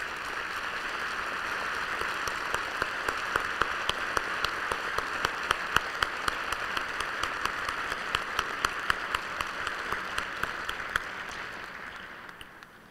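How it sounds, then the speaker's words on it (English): Sustained applause from an audience honoring standing elected officials at a county executive inauguration ceremony, dense steady clapping throughout with occasional sharper individual claps, tapering off at the end. "All elected officials, please stand and receive a well-deserved round of applause."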